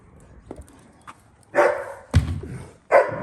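A dog near a residential home gives three loud, close barks spaced about half a second to a second apart, after a few softer yips and scuffles.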